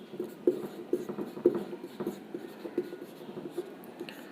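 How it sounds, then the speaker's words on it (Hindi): A marker or chalk scratches out a name on a classroom board in a series of short, close strokes with small pauses between them. "तो यहाँ पे चलिए लिखते हैं बर्जिलियस।"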